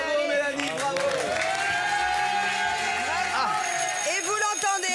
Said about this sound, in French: C'est la sonnerie. L'école, c'est terminé pour aujourd'hui.